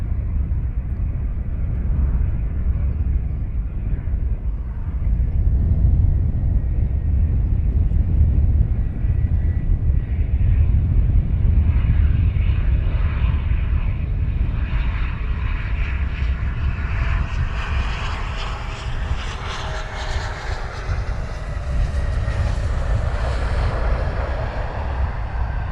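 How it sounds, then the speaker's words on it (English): Inbound aircraft at Luton Airport, a steady broadband engine roar that builds over about 25 seconds with a rising whine, loud and continuous with no talk. "Next inbound aircraft."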